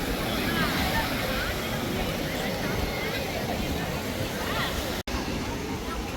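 Steady broadband roar of surf and wind at Marina Beach, Chennai, fills the whole stretch, with faint voices mixed in and a brief dropout near the end.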